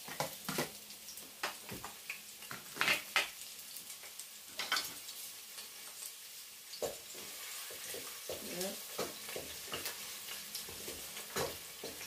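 Remaining onions fry quietly in a pot while being stirred, giving a soft sizzle with intermittent scraping and clinking of a utensil against the pot, faint and close, for Egusi soup.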